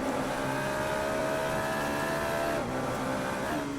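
Onboard engine sound of a Radical race car during a club race, a loud, steady high-pitched engine whine that holds, then drops in pitch with a gear change.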